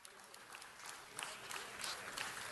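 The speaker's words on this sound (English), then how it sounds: "Let's give him another round of applause." Applause for a council member in a city council chamber, fairly faint and distant, a soft clapping wash that swells toward the end.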